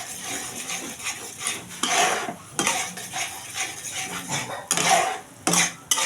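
Mashed pointed gourd is stirred in a pan until it dries, with repeated scraping and clattering spoon strokes in uneven bursts, close and fairly loud.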